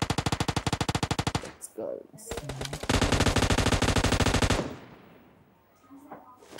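Automatic gunfire from the battle game PUBG, loud rapid bursts of machine-gun shots in two long strings with a short gap, fading to quiet, with brief speech between bursts.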